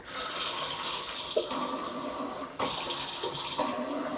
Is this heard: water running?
yes